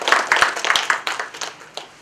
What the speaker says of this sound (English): calls for a round of applause